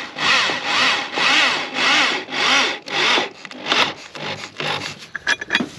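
A large saw cuts through thick locust-wood beams on a farm, with five steady, loud back-and-forth strokes followed by shorter, irregular rasping pulls as the cut finishes, heard alone with no talking.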